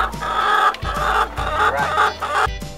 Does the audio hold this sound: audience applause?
no